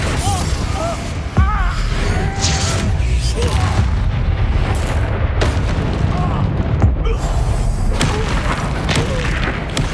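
Confringo fire spells blasting in a Hogwarts Legacy battle, loud booming explosions and crashes packed densely over ten seconds with shouted voices in between.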